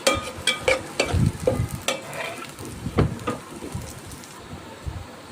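Almonds, pistachios, raisins and grated coconut fry in hot fat, giving a steady close sizzle broken by stirring scrapes and clinks, with no one talking.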